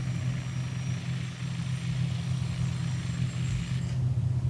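A Westland Scout helicopter idles on the ground after landing in Microsoft Flight Simulator 2020, a steady low engine and rotor drone that runs unbroken and fairly loud throughout, with no voices.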